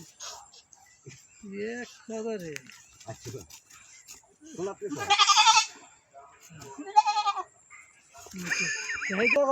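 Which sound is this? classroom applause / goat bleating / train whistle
goat bleating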